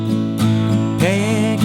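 Guitar chords for the chorus of a song ring out with strums roughly every half second, full and close, each chord sustaining into the next.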